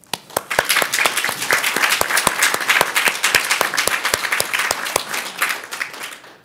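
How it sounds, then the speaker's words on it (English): A small group at a summit's closing plenary claps together in a brisk, even rhythm, the sharp hand claps ringing out close by for several seconds. "another round of applause for yourselves for the work that you've done"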